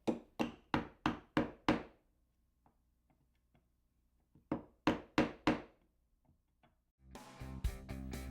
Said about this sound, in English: Now this is going to be best accomplished using a nice sharp chisel.